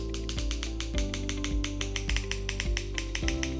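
A bicycle hub with a 150T ratchet freehub clicks in a fast, even buzz of tiny metallic ticks as it spins, with a low rhythmic thump about every half second underneath, close up and without talk.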